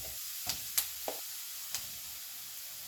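Chili powder tipped into hot oil with browned ginger and garlic for a Kerala fish curry, giving a soft continuous sizzle with a few brief clinks and scrapes; no talking.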